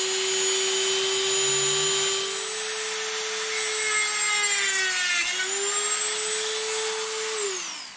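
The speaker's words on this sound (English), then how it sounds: "So normally what I do is I'll go ahead and take my little grinder" A small handheld grinder cuts a V notch into the wire ends of an Arrma Infraction ESC, a steady close, loud high whine that dips briefly as the disc bites, then recovers and spins down at the end.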